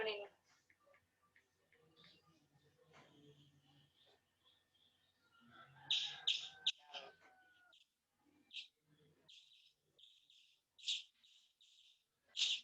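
A bird chirps through a participant's open microphone during an online class, giving high, bright calls in clusters over the second half, with faint talk and background noise earlier on.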